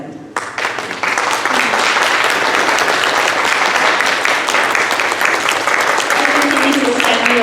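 Crowd at a school mural unveiling gives sustained, loud applause, a dense wall of clapping that swells quickly and holds steady, with a voice briefly heard under it.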